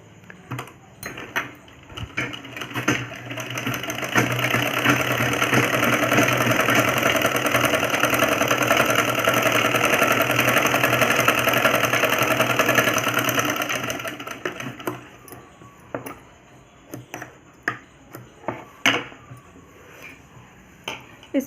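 A sewing machine stitches the front leg seam of a pair of trousers in one long continuous run, close and steady, starting after a few clicks and stopping with scattered handling taps afterward.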